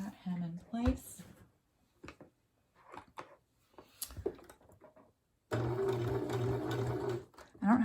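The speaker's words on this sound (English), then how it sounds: "now I'm just going to sew that hem in place" A sewing machine stitches the hem of a fabric mask, a brief buzzing run near the end after scattered voice and handling sounds, with someone talking in short bursts earlier.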